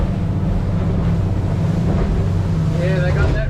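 A Yellowfin YF70 extended-cabin boat runs through short, sharp choppy waves, its engine rumbling steadily under heavy wind buffeting and water rush throughout.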